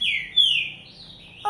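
A pet bird gives a couple of bright, close chirps, one rising and one falling, with a short quiet gap and then the start of another call.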